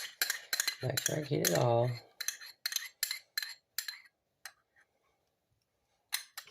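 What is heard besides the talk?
spoon clinking against bowl scraping egg yolk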